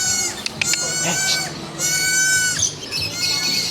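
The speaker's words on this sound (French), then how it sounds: "une chèvre en plein milieu du marché" A goat bleats repeatedly in the middle of Chatuchak Market in Bangkok, its loud, wavering cries close by and rising over a bustling market background.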